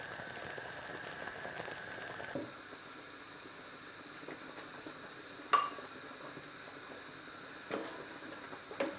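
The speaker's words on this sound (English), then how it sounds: "Jam is boiling beautifully" Rhubarb jam boiling in a pot on a home stove, a faint, steady bubbling simmer with a soft hiss and a few light clicks and taps over it.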